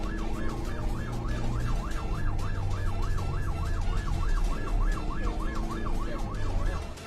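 An ambulance siren wails steadily in a fast, rising-and-falling yelp as it passes President Joko Widodo's convoy, which has pulled over on a city road, with traffic rumbling underneath throughout.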